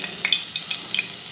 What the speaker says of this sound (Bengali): তেলটা গরম হয়ে গেছে। এবার দেব ওর মধ্যে নিজে এক হাতে করা তো, ওই জন্য একটু অসুবিধা হচ্ছে। কালো জিরে ফোড়ন।